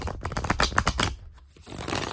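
Tarot cards being shuffled for a reading, a quick run of close, crisp papery riffling clicks, a brief pause, then more shuffling, with no talk.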